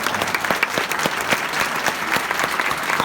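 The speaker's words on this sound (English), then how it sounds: "Let's give these guys a really big round of applause." Audience applause at a graduation ceremony, dense continuous clapping from a crowd, loud and even across the whole stretch.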